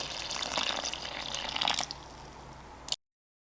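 Warm tap water pours into a bowl of bread dough ingredients, a steady splashing stream that thins, then ends with a final drip before silence.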